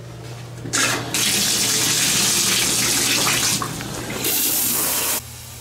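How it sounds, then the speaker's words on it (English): Shower water runs steadily in a home bathroom, a loud, continuous hissing spray that starts abruptly, dips briefly midway and then cuts off near the end. "so I'm gonna go shower."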